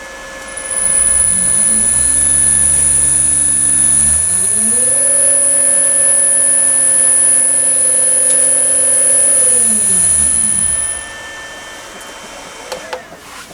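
A new three-phase motor for a Myford ML7 lathe, driven by a VFD inverter, ramps up in stages to a steady whining hum, then spins down and stops. A high electronic tone is also present.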